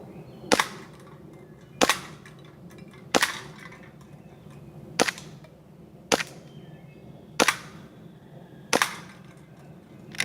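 Seven sharp, evenly spaced cracks from a WE M1911 gas blowback airsoft pistol fired with an old magazine, each shot crisp and close, with quiet pauses between and no talking.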